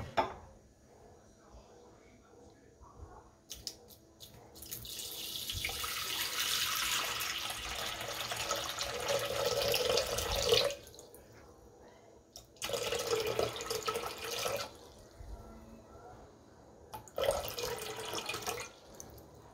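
Water poured in several separate bursts into a Compact Cook Platinum multicooker bowl, a close splashing, gurgling flow with short quiet gaps between the pours.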